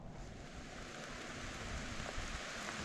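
Rain falls steadily on a forest trail in Aucilla WLMA during a hike, a soft, even hiss of drops spread across the surroundings with no distinct individual patters.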